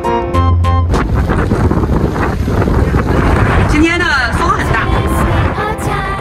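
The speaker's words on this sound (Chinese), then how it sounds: "今天的风很大。" Strong wind buffets the microphone near a boat on the water in Alaska, a steady loud rumble running the whole time beneath people talking.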